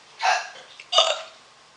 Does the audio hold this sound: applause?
no